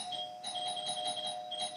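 An indoor doorbell rings with a steady, sustained electronic chime, fairly faint, with no talking.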